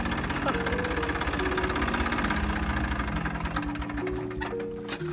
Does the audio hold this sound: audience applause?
no